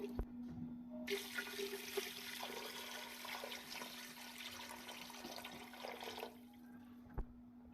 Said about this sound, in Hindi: इसमें मैं पानी डालने लगी हूँ।